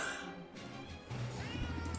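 A cat meows twice in the Potionomics video game, short tonal mews over faint background game sounds.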